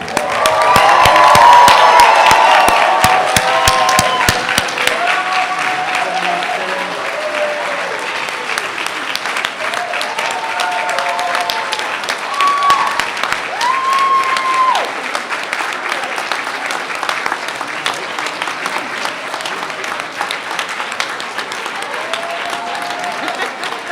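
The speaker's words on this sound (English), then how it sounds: "Please join me in giving a warm round of applause to our class of 2018" A large ceremony audience applauds nursing graduates at a pinning ceremony, loud clapping with cheers and whistles at first, then settling into long, steady applause that gradually softens with scattered shouts.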